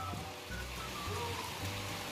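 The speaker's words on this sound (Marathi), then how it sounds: "आणि आता बघा पाऊस चालू झालो हा" Rain falls steadily during a Ganesh immersion day in the Konkan countryside, a faint, even hiss of drops on surfaces with soft, distant voices faintly audible beneath it.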